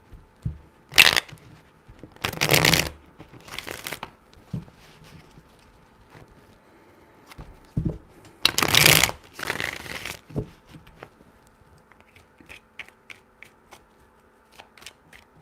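Tarot cards shuffled by hand in a few quick bursts, crisp riffling flutters separated by pauses and softer handling rustles, close and fairly quiet.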